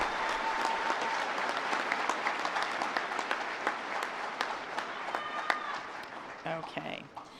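At a university commencement ceremony, the audience breaks into applause for the student government, a full, sustained patter of clapping with some voices mixed in as it thins toward the end.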